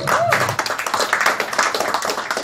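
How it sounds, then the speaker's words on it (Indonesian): An audience claps at a tourism talk in Palembang, a short burst of scattered applause with a voice running over it. "tepuk tangan dulu Bang"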